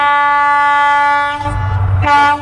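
A train horn sounds long and loud at a railway crossing gate near Kopargaon, then gives way to the low rumble of the train passing close by, with a brief sharp burst near the end.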